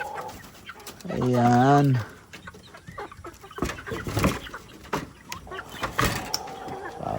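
Large Texas chickens cluck loudly up close in a farmyard, one strong drawn-out call standing out before scattered softer clucks, with a person talking over them.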